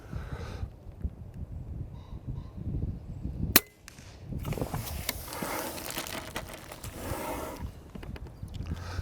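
A Daystate Safari .25 air rifle fires a slug: one sharp, loud crack stands out partway through over a steady, rustling background.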